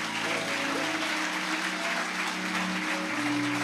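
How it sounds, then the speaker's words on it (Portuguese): Congregation applauding in a church service, continuous dense clapping at steady volume, with sustained musical tones running underneath. "Você pode aplaudir ao Senhor se você acredita?"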